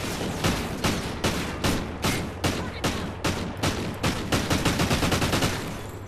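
Video game gunfire in Blitz rings out as rapid, evenly spaced bursts of shots, loud and close, repeating in a steady automatic rhythm that quickens toward the end.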